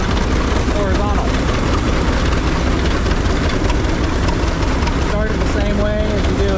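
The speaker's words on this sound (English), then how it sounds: "the engine lays in there horizontal, the two-cylinder horizontal" A two-cylinder horizontal engine like a John Deere Waterloo Boy runs loudly and steadily at an antique threshing bee, a constant low rumble close by with a voice speaking over it.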